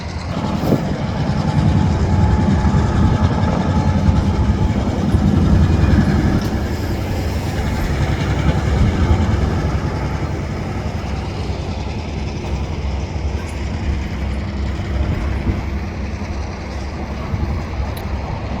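A long freight train of hoppers and tank cars rolling past near Sapperton, a loud, steady rumble of wheels and couplers with faint clatter, continuous throughout with no speech.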